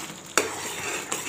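Coconut milk halwa is stirred in a heavy-bottomed pan. A thick, sloshing scrape is heard over a faint sizzle, with two distinct knocks of the spoon against the pan.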